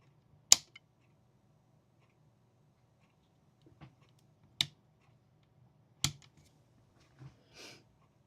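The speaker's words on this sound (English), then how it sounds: "It's clicking when it's coming on." A laptop with a blown MOSFET gives sharp isolated clicks as power is applied, three distinct close ticks spaced a second or more apart with a few fainter taps between, against near silence.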